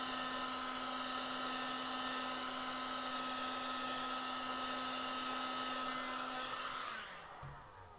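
A heat gun blows with a steady, loud whirring hiss and a constant hum as it shrinks shrink wrap onto a fishing rod, then switches off near the end and winds down, with no talking.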